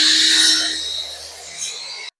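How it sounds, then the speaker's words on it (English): A miter saw cuts through a wainscoting panel: a loud, close, rasping whine that eases slightly and then stops abruptly as the blade finishes the cut. "but the miter saw is going to get it correctly."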